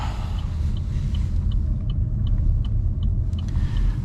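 A 2024 Chevy Malibu RS car taking a tight turn, heard from inside as a steady low road rumble and engine drone with faint ticks and clicks above, no voices.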